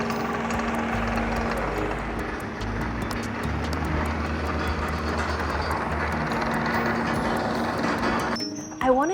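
An excavator rumbling as it drives over dirt and levels it, a steady low engine drone with mechanical clatter throughout, rising briefly at the end.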